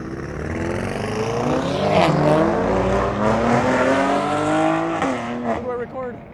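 Supercars, among them a McLaren, pull away from a car meet, their engines loud and close as they rev and accelerate in a continuous roar that rises and falls over several seconds, with people talking now and then.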